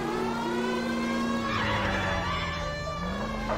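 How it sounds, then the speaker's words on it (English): A video game police siren wails, rising and falling steadily over a continuous engine drone, fairly loud and close, with no voices. "The police siren."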